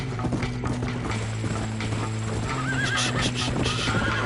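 A horse in Red Dead Redemption neighs and whinnies over steady clip-clopping hooves, with creaking tack and mechanical rattles, all close and loud against a sustained backing tone.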